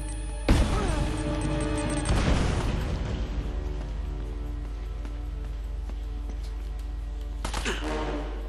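Grenade explosions in Uncharted: Drake's Fortune, with two loud booms close together near the start and another burst toward the end, each followed by a rumbling decay.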